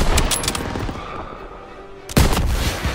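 Rifle and machine-gun fire rattles during a Call of Duty: WWII firefight at an MG nest, with loud sharp shot bursts at the start, a brief lull, then another heavy volley near the end.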